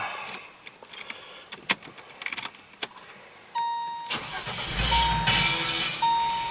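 A 1995 Mercedes-Benz G320 Geländewagen is started: keys and cabin clicks come first, then the starter cranks and the engine catches into a steady, fairly loud idle. No one speaks.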